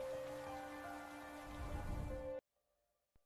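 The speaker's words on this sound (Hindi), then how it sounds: "पहली वर्षा की बूंद अंत की सूचना थी।" Steady rain falls with a dense patter of drops on surfaces and a low rumble building, then cuts off abruptly into near silence broken by one faint click.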